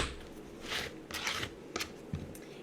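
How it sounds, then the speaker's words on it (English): A kitchen knife chops a butternut squash into pieces, giving a few faint, separate crunching cuts spaced out over a couple of seconds with no talk. "So I'm just going to cut it into manageable pieces."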